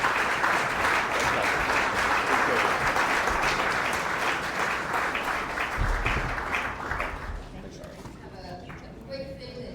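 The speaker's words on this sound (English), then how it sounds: "Join me in a round of applause for Paul Sayo and Sara Deen." A round of applause from the audience at a California State Assembly and State Senate election forum for two candidates, dense sustained clapping that thins out toward the end as a voice begins speaking.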